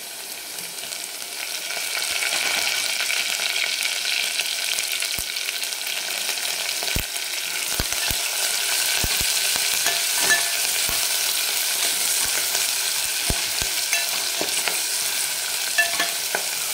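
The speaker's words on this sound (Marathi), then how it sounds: "आलं आणि लसूण हे ठेचून घेतलेलं आहे थोडंसं, ते टाकून घेऊ।" Crushed ginger and garlic frying in hot oil in a pan for Khandeshi dal, a steady close sizzle that swells after the first couple of seconds and holds, with occasional stirring clinks and scrapes and no talking.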